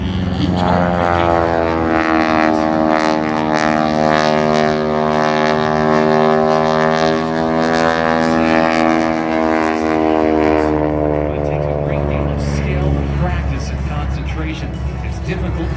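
A crop duster airplane, a ton-and-a-half propeller plane, flies at an airshow with a steady, loud droning engine tone that slowly shifts in pitch as it passes, while someone talks over it throughout.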